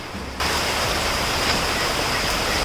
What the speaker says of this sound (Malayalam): നല്ല മഴയാണ് കണ്ടില്ലേ